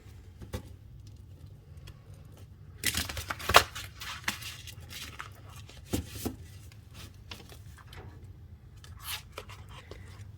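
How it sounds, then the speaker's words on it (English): Playing cards are shuffled in quick riffling bursts and soft flicks, close and fairly quiet, with pauses between handlings. "let's give it a good shuffle."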